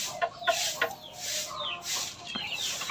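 Fighter rooster chickens cluck in repeated short bursts near the listener, with higher calls and a steady hiss of farmyard ambience behind them.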